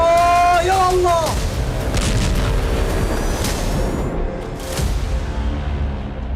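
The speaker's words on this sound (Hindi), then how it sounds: "दावा है कि PIJ का ये रॉकेट गाजा के अस्पताल के पार्किंग लॉट में गिरा।" A rocket explosion in a Gaza hospital parking lot booms heavily and rumbles on in a long, loud roar, with a voice crying out briefly at the start over the blast.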